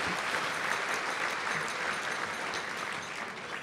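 A large audience applauds at a formal evening dinner honouring government and industry representatives, a steady, dense wash of many hands clapping that holds evenly throughout without voices rising above it.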